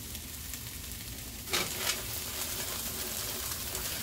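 Frozen vegetables hit a hot pan of onions, a burst of loud sizzling and crackle breaking in partway through and then settling into a steady fry.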